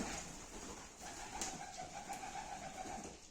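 Pigeons coo softly in a loft, a low continuous murmur of several birds fairly near, with a brief flutter partway through and no talking.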